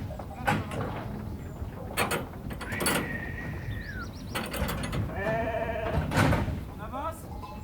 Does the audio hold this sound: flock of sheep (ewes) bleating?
yes